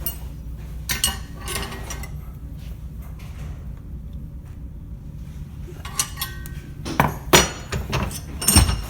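Metal clanks and taps from hammer blows bending a metal stirrup to fit a shoe, irregular and close, over steady workshop background noise, with no talking.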